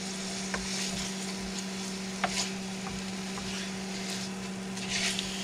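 Pork sizzles steadily in a pan on a stove in an RV, a soft even frying hiss with a few light utensil taps and flips, under a constant low hum.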